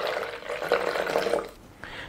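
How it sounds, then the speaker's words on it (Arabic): Descaling solution pours into the water tank of a Saachi automatic coffee machine with a close, steady liquid splash and trickle that tapers off near the end. "هضيف ال 100 ملي كامله من المحلول في تانك الميه."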